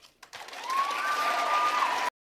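Audience clapping at the close of a Matt Walsh talk at NMSU, a broad wash of applause that swells after a brief pause and holds steady for about two seconds, with a faint sustained tone running through it.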